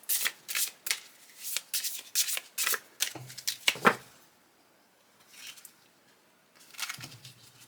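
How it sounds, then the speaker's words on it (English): An oracle card deck is riffle shuffled several times in quick bursts, crisp fluttering riffles close by, separated by short pauses and a soft voice. "I should be able to do the riffle shuffle with them with no problem"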